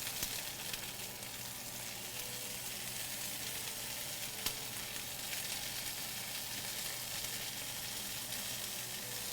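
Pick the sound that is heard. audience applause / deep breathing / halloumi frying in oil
halloumi frying in oil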